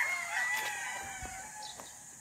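Kelso and dragon hatch gamefowl stags crow at a farm, a drawn-out ringing call with a few short clucks and background birds.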